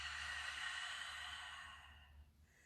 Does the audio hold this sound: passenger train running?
no